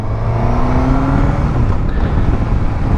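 Suzuki GSX-S1000GT motorcycle pulling away on a road, its engine droning loud and close with rising revs under steady wind roar.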